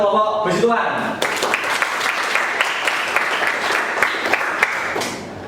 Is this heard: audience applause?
yes